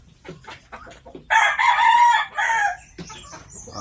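A Japanese Shamo rooster of the Vasto Jutako line crows once, loud and close, a harsh drawn-out call lasting over a second after some softer clucking sounds.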